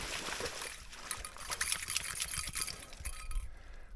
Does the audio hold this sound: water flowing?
yes